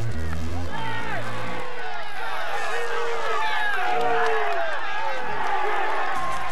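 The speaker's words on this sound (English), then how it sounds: "the sound of the best rider on the tour being booed up Mont Ventoux" Roadside spectators on Mont Ventoux during the 2002 Tour de France jeer at Lance Armstrong, a loud mass of crowd voices with shouts and whoops rising and falling as he passes, under commentary.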